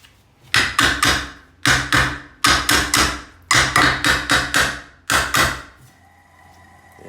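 A hammer repeatedly strikes metal plates being refitted to an old ceiling fan, in clusters of sharp, ringing blows separated by brief pauses, close and loud with no talking.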